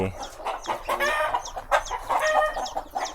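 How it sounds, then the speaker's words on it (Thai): Chickens in a rural yard in Laos cluck and squawk in quick, overlapping bursts as they chase and fight one another, with no one speaking. "ไก่ไล่ตีกันนะ"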